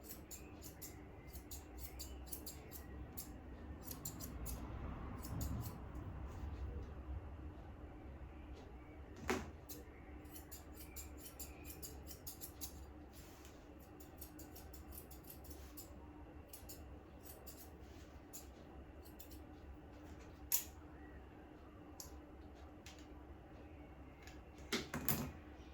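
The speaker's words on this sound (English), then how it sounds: "I'm going to get my scissors and I'm just going to do your fringe" Scissors trim a dog's fringe during a basic pet grooming session, giving a few sparse, sharp snips spread out over a quiet room.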